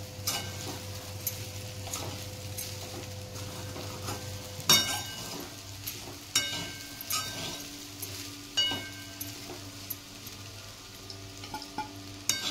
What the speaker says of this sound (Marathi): मग आता याच्यामध्ये शाबूस तांदूळ घालून घ्यायचे। दोन मिनिटं मी हलवून घेते।